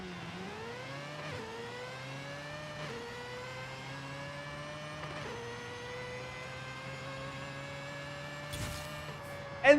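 A 700 HP drag-tuned 2002 Mazda RX7 in Forza Horizon 5 launches hard, its engine droning and revving up in a rising whine through several quick gear shifts, loud and steady throughout.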